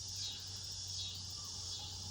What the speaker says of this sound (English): Hear the tree frogs.